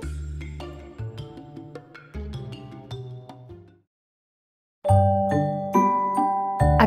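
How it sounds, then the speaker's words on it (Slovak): Chiming notification bell jingle with a run of bright ringing tones, a short pause, then a louder burst of layered bell notes; clear and close with no talking. "A aby vám už žiadne video neuniklo, kliknite na zvonček."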